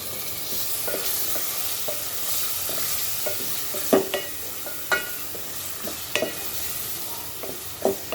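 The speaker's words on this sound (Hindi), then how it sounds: "मसाले को हमने अच्छे तरीके से भूनना है और टमाटर को हमने इसमें अच्छे तरीके से मैश कर देना" Masala and two tomatoes frying in a pan for masala kalegi, a steady close sizzle broken by repeated spoon scrapes and knocks against the metal as it is stirred and mashed.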